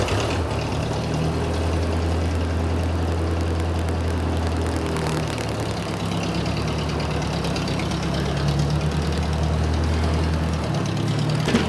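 A refurbished Fitzgerald 841 tractor runs nearby as it backs up, its engine a loud, steady, low chugging rumble that continues throughout.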